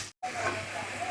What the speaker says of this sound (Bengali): এই যে গরম তেলে একটু আলুটা ভেজে নিচ্ছি